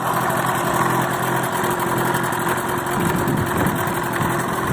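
A rebuilt 1977/75 Mercury outboard motor with new rings, honed cylinders and CDI ignition runs steadily at idle, giving a continuous buzzing mid-pitched engine drone with even vibration and no talk.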